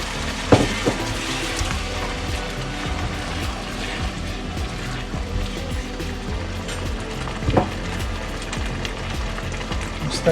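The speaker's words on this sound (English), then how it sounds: "Just let that simmer." Chopped tomatoes simmer and soften in a pan for an Indian-Mexican nacho topping, giving a steady, close bubbling hiss with a few soft clinks and no voices.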